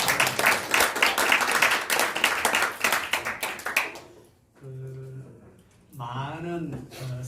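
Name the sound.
audience applause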